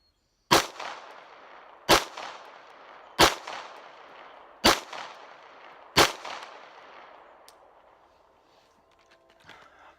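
Five sharp, loud handgun shots fired strong hand only, evenly spaced about a second and a half apart, each trailing off in a short echo, followed by quiet.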